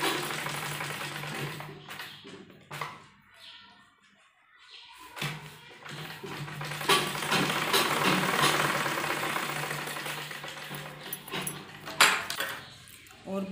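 A sewing machine stitches fabric for a baby frock in bursts of fast mechanical whirring, pausing briefly near the start before running again, close and clear with a voice speaking over parts of it.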